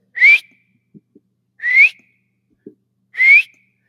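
Three short rising whistles, evenly spaced, clear and close, with faint soft knocks in the pauses between them; a person imitating a bird-like whistle heard from a ridge top.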